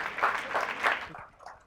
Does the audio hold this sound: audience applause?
yes